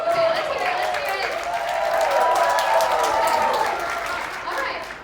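A high school theatre audience at a Brothers Grimm Spectaculathon performance breaks into warm, sustained applause and cheering, a dense crowd of clapping hands that swells in the middle and tapers toward the end.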